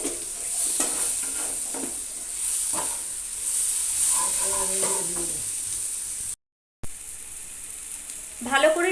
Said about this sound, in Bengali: আবারও সমস্ত মশলা দিয়ে ভালো করে কষাতে হবে